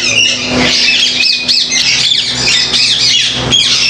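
White ring-neck parakeets squawk loudly and continuously at a busy bird market in Bahawalpur, harsh overlapping calls close by with a steady low hum underneath.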